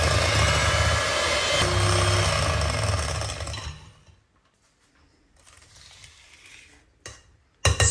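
Eggs whisked in a bowl for a lemon and raspberry Victoria sponge batter, a loud steady whirring buzz for about four seconds, then quiet scrapes and a final clatter.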